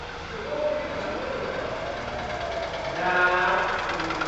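A Ford Ka 1.0 12V three-cylinder engine idles with a fault that knocks, vibrates and misfires, giving a continuous close rumble that swells slightly toward the end, with no talking.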